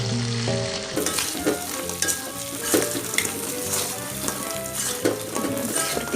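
Tofu hits a pan of frying garlic over low heat, a dense close sizzle with scraping stir strokes throughout, no voices.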